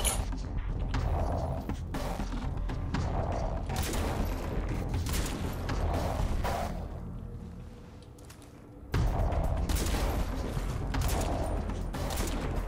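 Sniper rifle shots in the video game Crysis 2 crack out amid a dense, noisy mix of gunfire and mechanical clatter, with a brief quieter lull before loud firing resumes.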